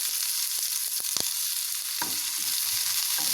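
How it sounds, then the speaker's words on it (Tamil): Finely chopped onion fries in hot oil in a pan with a continuous, close hiss and sizzle. A few sharp ticks and spatters sound through it, and there is no talking. "எண்ணெய் சூடானதும் ஒரே ஒரு பெரிய வெங்காயம் பொடியாக கட் பண்ணதை சேர்த்திடுறேன்."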